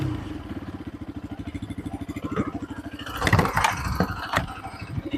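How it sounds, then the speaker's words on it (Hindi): A Bajaj Pulsar RS 200 motorcycle, just started, idles close by with a rapid, even exhaust putter, then gets a few sharp throttle blips that rise briefly above the steady idle. "देखिए स्टार्ट करने पे ऐसा एग्जॉस्ट सुनाई आता है"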